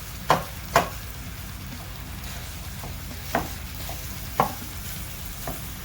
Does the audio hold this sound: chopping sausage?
yes